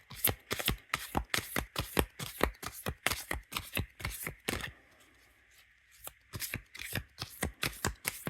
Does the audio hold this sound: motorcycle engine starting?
no